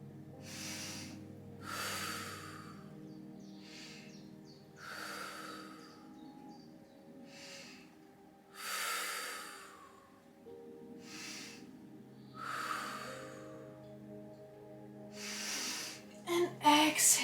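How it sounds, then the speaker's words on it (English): Slow, deep breathing during a seated yoga twist in a hatha class, five long inhale-exhale cycles of soft airy breath, close and evenly paced, alone without talk. "I'm gonna take 5 breaths."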